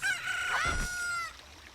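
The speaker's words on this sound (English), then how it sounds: "Chicken hatched from the egg you were incubating." In Zelda: Ocarina of Time, a freshly hatched chick crows once in a bright, synthesized cock-a-doodle-doo rising over a quiet game background, heard alone without talk.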